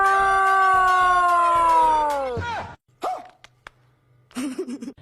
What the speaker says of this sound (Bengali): এই টম এত ভুকিস কেন?